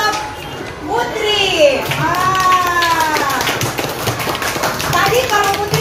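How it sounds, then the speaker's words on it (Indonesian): A class of elementary schoolchildren claps for a classmate. The clapping is uneven and close, with young voices chattering over it. "Berarti tepuk tangan dulu untuk Putri."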